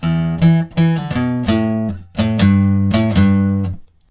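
Guitar plays the closing line of a song, a riff of sustained chords and short notes in steady phrases, close and alone with no voice.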